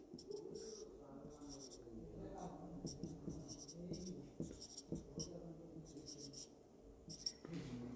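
Chalk or a marker scratches across a board in quick bursts during an electricity lecture, faint strokes coming in clusters while someone speaks between and over them.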